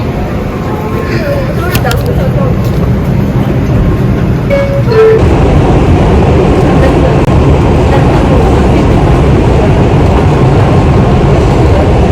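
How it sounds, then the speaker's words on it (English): Bronx-bound 2 express subway train running loudly at speed, a steady rumbling roar with rail rattle, and a brief tone early on. "This is a Bronx-bound 2 express train."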